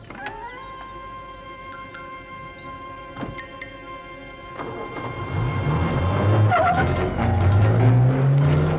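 A car engine starts and revs up, its low rumble rising in pitch and volume as the vehicle pulls away, preceded by steady background tones and a few clicks.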